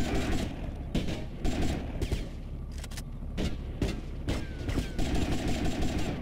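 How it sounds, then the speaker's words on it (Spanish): Rapid bursts of gunfire in GTA Vice City, a gang shootout with Haitian gang members, with repeated sharp shots and near-continuous volleys over a dense background of game noise. "Nada más los veas, empieza a disparar."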